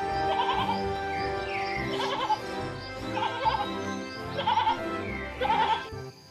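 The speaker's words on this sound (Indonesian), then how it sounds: "Ini domba teman-teman." Sheep bleat repeatedly, about five wavering calls in a row, close and clear over a quiet background.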